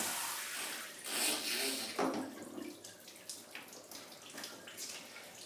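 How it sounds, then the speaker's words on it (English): A hand shower wand on an alcove bathtub sprays water, a soft hissing splash with shifting bursts and spatters, fairly quiet and heard on its own. "When I activate the hand shower button, the shower wand activates to wash and rinse your resident."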